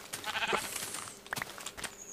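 Sheep bleating in the video game Minecraft, several short wavering bleats in quick succession, fairly loud and close, with no talking over them.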